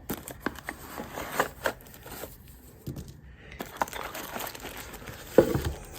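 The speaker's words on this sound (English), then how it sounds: "Pull it out of the plastic bag." Soft plastic crinkling and rustling in short bursts as a rugged Apple Watch Ultra case is pulled from its plastic bag, close and fairly quiet, with brief pauses between handlings.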